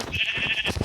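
A sheep in a video game gives a single close, loud, wavering bleat lasting under a second.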